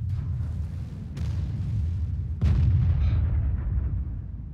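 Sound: artillery fire in the video game World of Tanks

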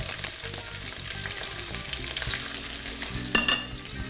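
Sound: broccoli frying in cooking oil in a pan

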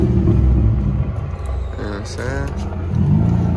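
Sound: Infiniti G35 sedan engine running

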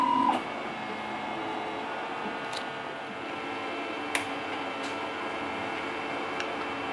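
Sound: 3D printer printing dice

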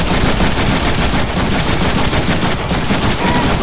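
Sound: heavy chain gun firing in Deadpool video game

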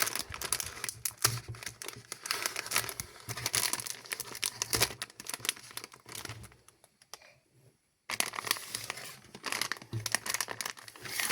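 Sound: unpacking a felt toy craft kit box

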